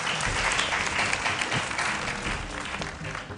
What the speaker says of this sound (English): A round of applause for ICS,